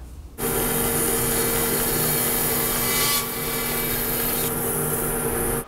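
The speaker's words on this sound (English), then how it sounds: "I'm going to take this over to the bandsaw and use this as a straight edge and I'm going to cut" A bandsaw cuts a wooden table apron to length, running steady and loud with a constant blade whine from start to finish, its pitch dipping briefly midway as the blade bites through the wood.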